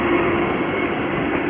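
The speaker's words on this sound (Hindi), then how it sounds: "ये वंदे भारत न्यू ट्रेन है, गोरखपुर रेलवे स्टेशन पे आ चुकी है" A new Vande Bharat Express train on a trial run at Gorakhpur railway station gives off a steady, loud mechanical hum with a sustained tonal whine, continuous throughout and with no talking.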